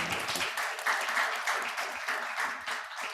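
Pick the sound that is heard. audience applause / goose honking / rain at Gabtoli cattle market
audience applause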